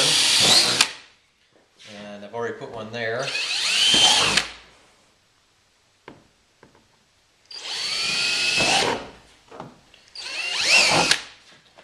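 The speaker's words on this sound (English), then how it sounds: "This is where the 5/16 drill bit comes" A power drill with a 5/16 bit whirs through material in several bursts while enlarging holes during an FJ Cruiser roof rack installation, close and loud, with a person speaking briefly between the drilling runs.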